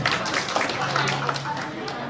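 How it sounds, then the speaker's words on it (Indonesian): An audience claps at an Indonesian government launch of a social cash-aid and graduate internship program, a steady patter of hands that runs under a speaking voice and room hum for about two seconds. "Tepuk tangan."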